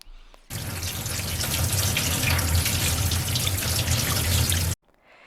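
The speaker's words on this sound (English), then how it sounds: "Rinse the peas with the clean water." Running water pours steadily for about four seconds, splashing evenly over yellow peas in a basket, then cuts off abruptly.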